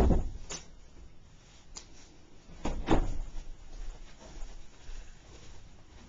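A closet door in a bedroom of a new town home bumps and knocks a few times as it opens and closes, with soft, scattered thuds over a quiet, hollow room background.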